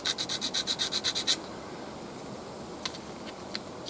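Quick rhythmic rasping strokes, about a dozen in a row, as material is filed or sanded by hand from a wooden part of a hand-crank generator kit, then a quiet room with a couple of faint ticks.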